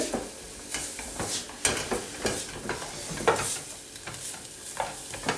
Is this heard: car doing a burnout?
no